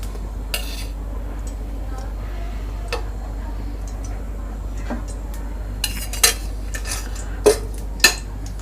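A pan set on a stove for egg bhurji, with scattered metallic clinks and taps of cookware over a low steady hum, a few sharper knocks near the end.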